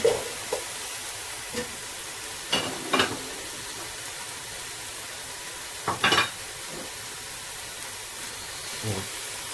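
Carrots tumbling into a Gambian chicken and peanut groundnut stew, with soft stirring scrapes and a few sharp clinks of utensils against the pot over a faint, steady background hiss.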